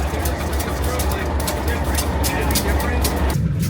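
A Durango & Silverton narrow gauge railroad train stands close by, its heavy engine giving a loud, constant low rumble with metallic clanks, the rumble dropping away near the end.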